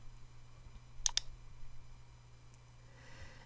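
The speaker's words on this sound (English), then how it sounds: "And then you can click OK." A computer mouse clicks OK in desktop software, a quick close double click standing out against faint background hum, with another tiny tick moments later.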